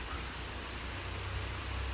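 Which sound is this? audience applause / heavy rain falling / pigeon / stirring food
heavy rain falling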